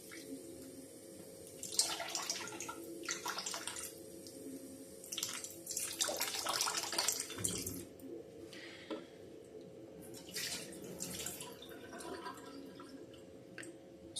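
Homemade butter being rinsed, with faint splashing and running water in irregular bursts, some louder sloshing and a few drips, quiet and close.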